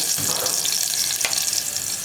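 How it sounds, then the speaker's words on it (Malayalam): Chopped ginger sizzling in hot coconut oil inside a pressure cooker makes a steady, close hiss of frying, with a brief stirring scrape partway through. "ഞാനിപ്പോൾ കുക്കറിൽ വെളിച്ചെണ്ണ ഒഴിച്ചിട്ടുണ്ട്. അതിലേക്ക് നമ്മൾ കട്ട് ചെയ്ത് വെച്ചിരിക്കുന്ന ഇഞ്ചി ചേർക്കാണ്"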